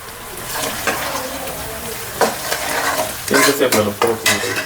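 Ginger stirred and fried in a pan for fish curry, with a steady sizzle under repeated scraping strokes of a spoon, the stirring growing busier and louder toward the end.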